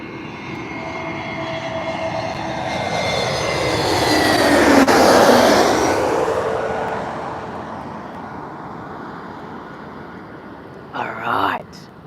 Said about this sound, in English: That was a pretty firm landing right there.